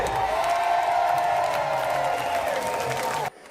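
Delegates at a convention approve a resolution by acclamation, a sustained crowd roar of cheering and applause that stays loud for about three seconds and then cuts off abruptly.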